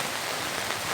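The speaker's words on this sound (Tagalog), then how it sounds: "Lumakas na naman ang ulan." Heavy rain during a typhoon in a village, pouring steadily with a dense, continuous hiss close by and no pause across the whole second.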